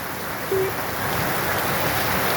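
Rain falling in a village makes a steady, even broadband hiss, a continuous wash of drops that holds at a constant level throughout with no voices.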